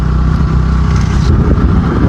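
A vehicle engine rumbles steadily up close as the vehicle pulls away, with a constant low drone and a busy mid-range roar across the whole stretch and no clear pauses.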